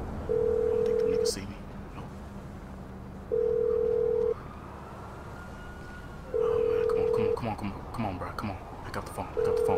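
Phone call ringing out in a video game as an outgoing ringback tone, with steady one-second beeps repeating every three seconds and faint background game sounds between them.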